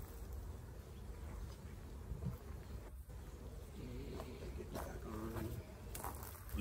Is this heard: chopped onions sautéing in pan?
no